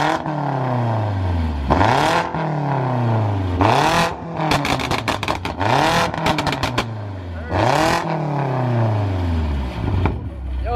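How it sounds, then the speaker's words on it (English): A 750hp BMW F90 M5 with a loud Remus exhaust pulls hard in repeated wide-open surges, each rising rev sweep ending in a sharp shift crackle, with turbo whine and cabin chatter between pulls. "You can hear the turbo spooling in the back."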